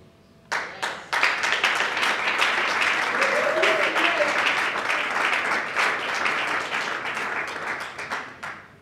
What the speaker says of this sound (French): je vous redemande d'applaudir frénétiquement M. Faustin Sokari